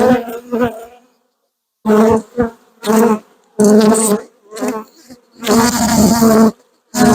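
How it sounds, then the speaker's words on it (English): Bees buzz loudly and close around a hive box after a swarm, coming in repeated bursts of droning hum separated by brief pauses. "Come on, bees, get out of there."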